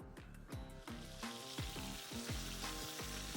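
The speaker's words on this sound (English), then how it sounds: "Oh, listen to the sizzle." Venison and vegetables in a pan on a grill sizzle with a loud, steady hiss and crackle, with periodic scraping strokes of stirring over the constant frying, no voices.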